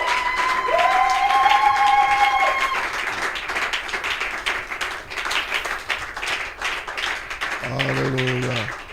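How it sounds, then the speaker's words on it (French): Church congregation applauding and cheering in praise at a worship service, a steady dense wash of clapping and voices throughout, with a sung or shouted tone early and a rising chant near the end. "Je veux que vous acclamiez le Seigneur."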